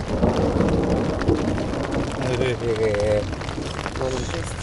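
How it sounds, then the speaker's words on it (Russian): Thunderstorm at night on a fishing trip by a tent, with long rolling thunder and steady rain hissing throughout, loud and close, while a person talks over it. "Первая гроза в этом сезоне."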